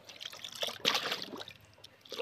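Ezee wash liquid detergent poured into two to three litres of water for hand-washing clothes, a soft close trickle and splash rising in a brief burst mid-pour, with no talking.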